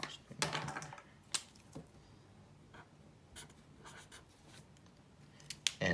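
Scratchy pen or marker strokes writing numbers by hand while working a polynomial division problem, a few short bursts close by with quiet pauses between.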